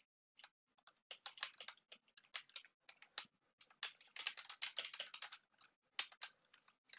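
Rapid, uneven bursts of key clicks on a computer keyboard while code is entered for a beginner Python Mad Libs program, close and crisp with brief pauses between runs of typing.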